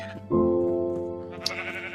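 A sheep in Minecraft gives a loud, drawn-out bleat up close, starting sharply and fading slowly over nearly two seconds, then a brief sharp click.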